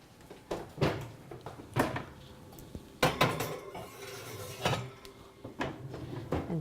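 Cast iron Dutch oven and metal cookware being handled at a home oven while it preheats for bread, giving a series of close, sharp clanks and knocks with short scraping between them and no talk.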